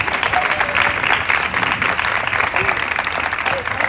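Steady applause from a crowd at a school graduation ceremony, dense clapping throughout with a hint of voices underneath.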